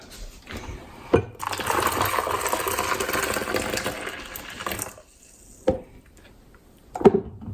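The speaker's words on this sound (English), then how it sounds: "Put in hot water, boiling water." Boiling water pours steadily into a container for yogurt-making for a few seconds, with a couple of sharp clunks before and after the pour.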